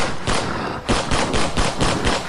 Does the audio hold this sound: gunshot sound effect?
yes